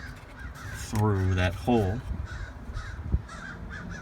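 Crows caw in a couple of near, harsh calls outdoors, with someone talking over and between them.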